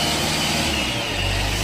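A large cement mixer truck engine runs close by in a short burst, a steady mid-pitched rumble with a deeper surge toward the end, no voices.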